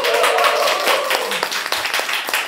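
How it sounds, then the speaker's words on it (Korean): An audience claps together at the opening ceremony of a Korean election campaign office, a dense, lively round of applause filling the room close by and carrying on without a break. "박수로 받아주시기"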